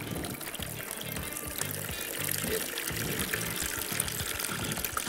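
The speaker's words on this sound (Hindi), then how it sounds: "यहाँ पर ठंडे पानी के साथ हम इसको ऐड कर देंगे। ठंडा पानी होना चाहिए लाजमी।" Cold water poured into a flour and salt batter for crispy chicken, a steady liquid pour and trickle running for several seconds over low background hum.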